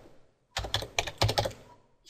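A handful of crisp computer keyboard keystrokes in a quick irregular burst, close and clear, with silence before and after.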